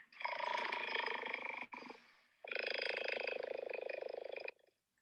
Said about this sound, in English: Here's a cheetah.